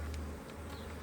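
Honey bees buzzing around an open hive during an inspection after swarming, a steady close drone with a few individual bees passing by, no talking.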